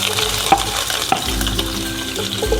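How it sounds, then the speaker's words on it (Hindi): Onions frying lightly in a pan on a medium flame with cumin, a steady close sizzle broken by a couple of sharp utensil taps and stirring scrapes. "प्याज को हम हल्का सा फ्राई करेंगे।"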